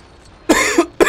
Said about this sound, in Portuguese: Tá dando vontade de tossir.